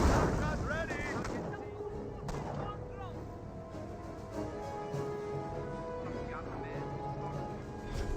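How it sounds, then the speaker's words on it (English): Mortar emplacement firing in the World War II strategy game Company of Heroes, heavy booms and battle noise over a continuous game soundscape, with a person talking over it. "We've got a mortar emplacement now has been deployed on out."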